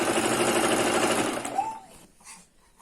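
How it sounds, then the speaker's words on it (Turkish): A sewing machine stitches a sleeve seam toward the shoulder with a steady, fast mechanical whir that runs loud and close, then slows and stops, leaving faint handling noise. "Burayı da omza doğru dikiş olarak bitiriyorum"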